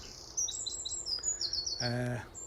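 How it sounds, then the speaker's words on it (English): Several small birds chirp and tweet in woodland, with quick high calls overlapping near and far, plus one brief louder call partway through over a soft outdoor background. "There's a lot of birds around here."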